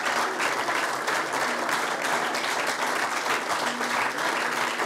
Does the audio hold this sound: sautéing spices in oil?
no